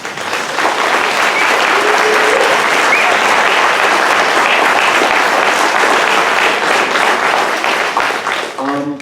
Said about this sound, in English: I'd like to ask our students to stand and get a round of